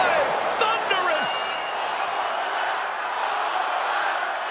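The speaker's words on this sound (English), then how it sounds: "The sound of this crowd." A video game crowd roars in a steady wash throughout a Def Jam 2K22 wrestling match, with a few brief sharp effects near the start.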